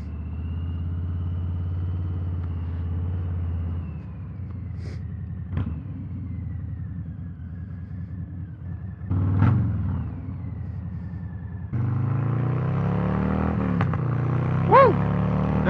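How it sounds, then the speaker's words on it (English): A 2020 Harley-Davidson Fat Bob with a 2-in-1 exhaust rides past, its V-twin engine rumbling and revving in surges, dropping off and rising again, loud and close. "That 2-in-1 exhaust sounds insane."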